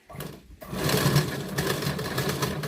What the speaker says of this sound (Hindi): इसके पास पास से बिल्कुल सिलाई लगाते हुए चलेंगे और इस डिज़ाइन को कंप्लीट करेंगे